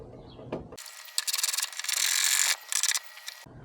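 A ratchet wrench tightening bolts on a Focus RS lift bracket, a close, loud burst of rapid clicking strokes in short runs, with a continuous stretch of ratcheting in the middle before it stops.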